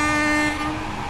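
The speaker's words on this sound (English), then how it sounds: "That's a train horn, by the way." An LNER Azuma Class 801 train sounds its horn in one sustained, loud, steady multi-tone blast from the cab, fading slightly toward the end.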